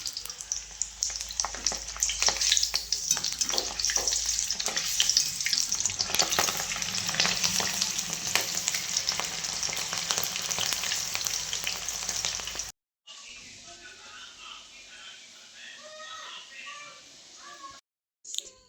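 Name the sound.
green chillies deep-frying in oil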